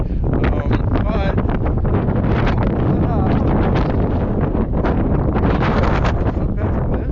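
Strong desert wind roars and buffets the microphone, a loud continuous rushing gust that never lets up.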